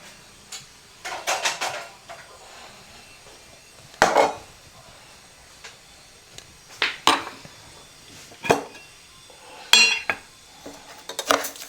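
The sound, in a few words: small spoon clinking while adding sugar to tea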